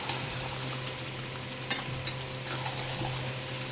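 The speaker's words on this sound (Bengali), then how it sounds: "গরম জলটা অল্প অল্প করে দেবো আর কষিয়ে নেব।" Country chicken being stir-fried in a wok at home, with hot water added bit by bit; a steady soft sizzle runs throughout with a low hum, broken by a couple of light utensil scrapes.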